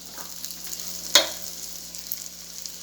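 Lechon kawali fries in its own rendered pork fat in a pan over lowered heat, giving a soft, continuous crackling sizzle with one sharp pop partway through.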